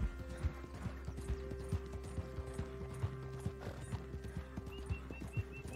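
Steady clip-clop of video-game horse hooves trotting at a quick, even rhythm, soft and mid-distance, over a low background hum.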